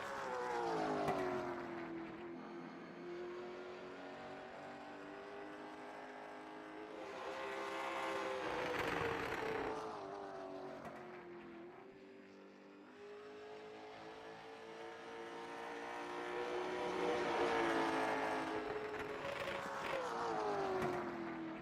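A late model race car on the Thompson oval in iRacing runs a single lap, its engine droning loud and steady, dipping and swelling as it lifts for corners and accelerates down the straights, with no talk.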